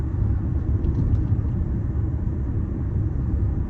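A 2010 Audi A4 B8 Avant heard from inside under roughly 80% throttle, giving a steady low engine drone with road rumble, even and continuous throughout.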